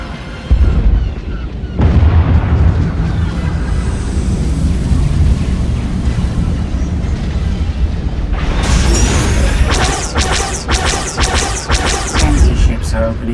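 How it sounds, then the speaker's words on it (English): Enemy ships opening fire in the SWTOR video game: loud, continuous rumbling blasts, then a run of sharp, rapid laser-like shots and crashing impacts in the later part, with voices talking over the barrage. "Enemy ships are opening fire."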